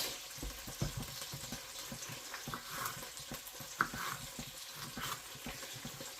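Vegetable strips hitting a hot pot of frying Hungarian goulash, a soft crackling sizzle with scattered stirring clatters and one sharp clink, fairly quiet and continuous with no talk.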